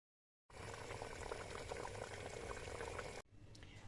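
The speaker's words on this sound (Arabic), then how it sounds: "نديرهم نخليهم يغليو شويه باش نزيد القرنون" A tomato sauce with cardoons bubbles steadily at a rolling boil in a pot, a dense close simmering hiss that stops abruptly, leaving quieter room tone.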